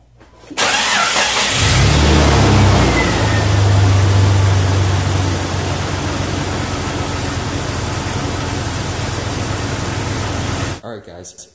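A Jeep Cherokee 4.0L engine, freshly fitted with new spark plugs, starts up loud and close, then settles into a steady idle hum that runs on evenly until it cuts off near the end.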